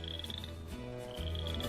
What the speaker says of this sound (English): frogs croaking to their loved ones